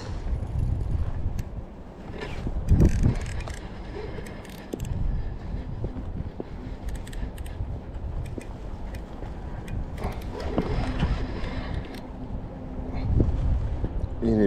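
An outboard motor runs on a fishing boat, a low rumbling drone mixed with wind buffeting and water noise, with occasional knocks and thumps nearby.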